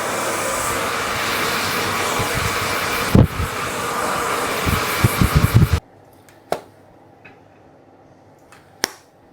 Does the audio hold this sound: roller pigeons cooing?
no